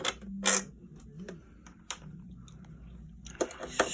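Small screws being backed out of a PlayStation 3 chassis with a magnetic-bit screwdriver during a teardown: scattered faint clicks, creaks and metallic ticks, close by and quiet, with a few sharper taps near the end.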